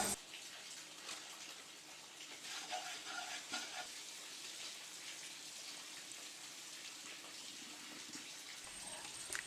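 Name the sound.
stirring Kashmiri chili powder in pan on low flame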